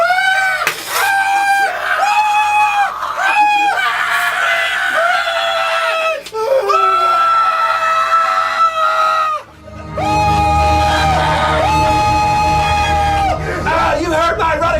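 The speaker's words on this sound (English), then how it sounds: "When I say action, start screaming." A group of people scream together on cue while a film scene is being shot, giving loud overlapping shrieks and wails that rise and fall, with a brief break near the end before the screaming resumes.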